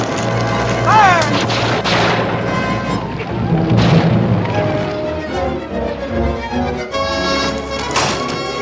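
Cannon blasts and rifle gunfire in a Western battle scene, heavy booming shots and cracks repeating throughout amid shouting and a loud chaotic mix.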